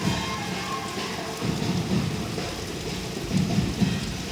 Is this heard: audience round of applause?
no